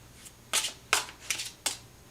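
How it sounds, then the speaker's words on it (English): Tarot cards being shuffled by hand in short, crisp riffling bursts, about four quick rustling flurries in close succession, near and fairly quiet, with no voices. "If I can shuffle without flinging them everywhere."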